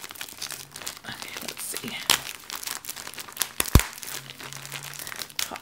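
A heavily taped package gets torn open with loud crinkling and ripping of wrapping and tape in irregular bursts, one sharp rip standing out, while a person talks softly over it.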